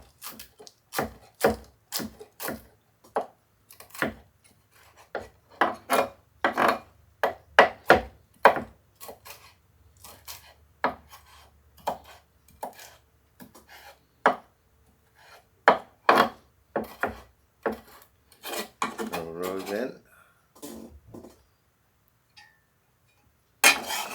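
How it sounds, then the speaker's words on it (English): A knife chops herb leaves on a wooden board in quick, crisp strikes, dozens of close, sharp taps in uneven bursts with brief pauses, fading to quiet near the end. "Go ahead and chop up our leaves."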